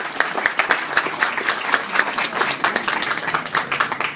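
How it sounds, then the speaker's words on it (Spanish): Audience members at a psychology conference clap warmly to welcome a speaker representing the organizing team, a brief, lively burst of hand claps with individual claps audible in the mass. "Lo recibimos con un fuerte y cálido aplauso."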